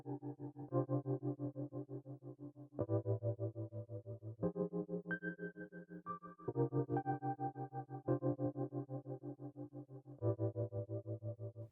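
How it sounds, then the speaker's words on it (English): In n-Track Studio, a music loop plays with a tremolo effect, its chords pulsing in a rapid, even volume wobble throughout, clean and alone with no talking. "hear the difference that the tremolo adds to our loop"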